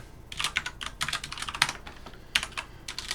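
Typing on a computer keyboard while entering a number for a C++ program, with quick bursts of clicky keystrokes that start and stop irregularly, close and fairly quiet, with no talking.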